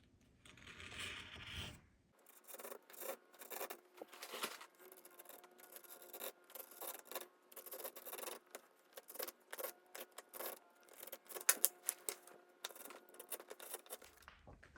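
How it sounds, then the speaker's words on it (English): A scalpel scores and slices through thick leather in repeated short scraping strokes, close and crisp, each pass a brief rasping cut in an uneven rhythm. "I'm just using a scalpel for that, and it's quite thick leather, so it takes a few cuts to get through"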